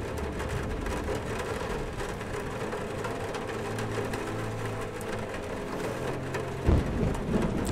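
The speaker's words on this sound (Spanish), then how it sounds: "El sonido de la lluvia y todo." Steady rain hisses throughout a scene in the video game Sam's Story, with a soft low rumble underneath and a brief thump near the end.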